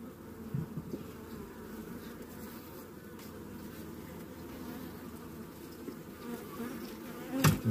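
Dense, steady buzzing of many honeybees close by in an opened hive, a continuous low hum with occasional bumps and rustles.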